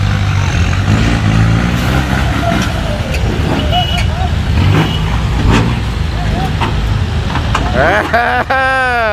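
A Nissan pickup truck towing a six-wheel trailer drives close by with a loud, steady engine drone and road roar throughout, with voices mixed in and a rising tonal whine near the end.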